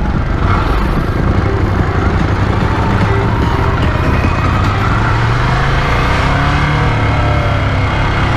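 Ducati motorcycle riding through city streets, a steady loud engine drone with low rumble and wind noise throughout, no talk.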